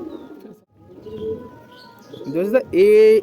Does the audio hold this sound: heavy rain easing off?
no